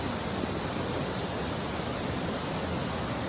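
Waterfall at Sarıçam sends up a steady, full rushing roar of falling water, continuous and even throughout with no voices.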